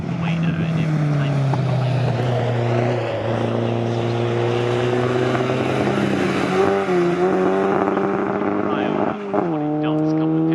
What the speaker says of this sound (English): We've got cars on the pit straight over here.